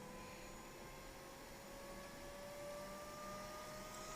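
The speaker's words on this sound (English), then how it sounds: "The rig will mine. The server power supply will whine. There you go. It's starting to whine." A server power supply on a six-GPU mining rig whining steadily alongside a broadband fan roar, with a thin high-pitched tone rising slightly in pitch as it spins up, loud and continuous with no voices.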